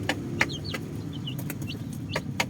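A half-native hen clucks in short, scattered calls over a steady low background hum, with a few sharp ticks mixed in.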